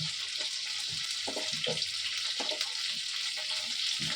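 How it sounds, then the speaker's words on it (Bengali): Potato, carrot and cauliflower frying in a pan give off a steady, close sizzle, broken by occasional soft clunks of stirring. "আলুটাও ভেজে নিলাম গাজর দিলাম ফুলকপি দিলাম"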